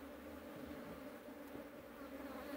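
Honey bees hum steadily at a hive just introduced to a new Italian queen, a dense continuous buzz heard close up without pause.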